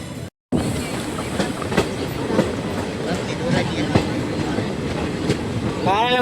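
A passenger train from Jetalsar to Porbandar, hauled by a WDM-type diesel locomotive, rolls steadily along the rails with a continuous rumble and rhythmic wheel clatter, and a brief squeal of wheels rises at the very end.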